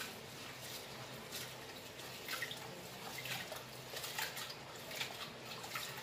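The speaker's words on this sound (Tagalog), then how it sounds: "Ugasan muna natin ang ating bigas." Rice being washed in water before cooking, a continuous soft swishing and splashing of water with small drips, close and fairly quiet, with no talking.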